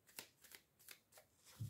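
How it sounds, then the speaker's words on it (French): Tarot cards being shuffled by hand: a series of soft, quick riffling swishes in uneven bursts, close and quiet, with a faint low thump at the end. "on va mélanger les cartes avec les mots"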